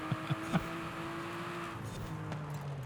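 A faint, steady engine drone from an Aston Martin in a racing video game, holding a low, even tone with a few soft bumps early on.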